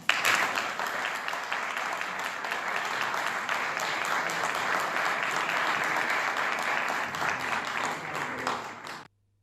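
Audience applause after a speech, a sustained wash of clapping from a room full of people that holds steady for several seconds and then cuts off abruptly.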